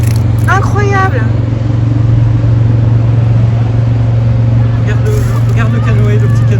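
Steady, loud road traffic in Toulouse, a continuous low engine rumble from passing cars and vehicles throughout, with voices or chirpy sounds briefly surfacing near the start and end.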